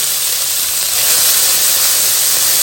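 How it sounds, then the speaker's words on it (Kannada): Two chopped onions hit hot oil with mustard seeds in a pan, setting off a loud, steady frying hiss that swells slightly and holds without a break, close up with no talking. "ಚೆನ್ನಾಗಿ ಇದನ್ನು ಫ್ರೈ ಮಾಡ್ಕೊಳ್ಳೋಣ"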